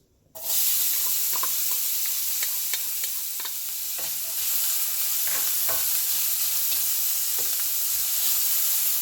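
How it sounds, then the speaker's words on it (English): Half a small onion sautéing over medium heat in one to two tablespoons of oil, a loud steady sizzle that erupts as the onion hits the pan, punctuated by repeated scraping stir strokes throughout. "Now I'm going to saute half of a small onion."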